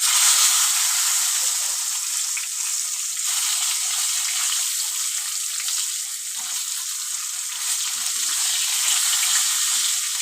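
Eggplant frying in oil with cumin, a continuous bright sizzle that holds steady and fairly loud for the whole stretch, with no voices.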